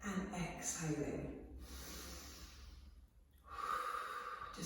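Deep breaths in and out during a kneeling Pilates side stretch, two broad airy inhale-exhale swells close to the mic, with a soft hiss and a brief quiet lull between them.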